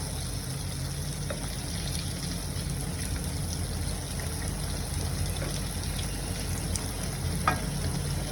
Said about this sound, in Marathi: आता ह्याला मी पलटी मारून घेते दुसऱ्या साईडने पण चांगलं ह्याला मी तळून घेते